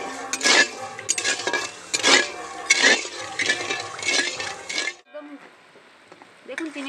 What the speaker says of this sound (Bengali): এবার এভাবে নাড়তে থাকবো যাতে ভালোভাবে গলে যায়।